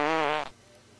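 Loud comic fart sound effect, a buzzy rippling blast lasting about half a second that cuts off abruptly into near silence.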